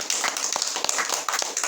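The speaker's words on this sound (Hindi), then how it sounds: "ताली बजाइए, हम हाली हाली बताते हैं।" Audience clapping, dense overlapping claps of a crowd held at a steady level without a break, with no talk over it.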